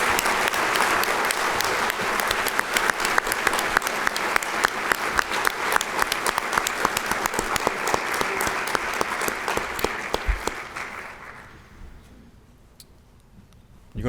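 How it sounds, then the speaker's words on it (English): Steady applause from an audience of students and guests at a Rotary Club ethics awards ceremony, clapping continuously for about eleven seconds before fading out to near silence. "Let's give our students, all of them, a big round of applause."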